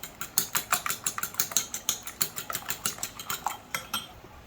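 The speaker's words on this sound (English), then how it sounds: "Grab you a bowl and 2 eggs and whisk them together." Two eggs are whisked together in a bowl, a quick, steady run of close, rhythmic clicking strokes of about five per second, continuing alone without any talk.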